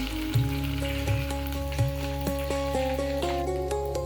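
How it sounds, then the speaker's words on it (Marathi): Cumin and ginger-garlic paste sizzle in hot oil with a soft, steady hiss, accompanied by gentle background melody tones. "आता फोडणीसाठी सगळ्यात आधी जिरं टाकून नंतर आलं लसूण पेस्ट टाकून परतून घ्यायचं"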